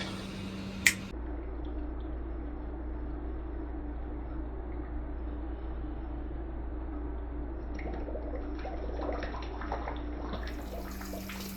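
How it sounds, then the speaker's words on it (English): Water trickling from a pond filter outlet into a jug, a soft continuous splashing hiss beneath a constant low mechanical hum, with one sharp click near the start. "It'd be interesting to see what colour the water comes out."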